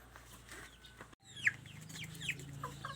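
A few short clucks from a chicken, close by, over quiet background noise with a brief dropout partway through.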